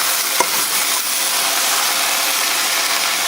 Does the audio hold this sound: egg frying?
yes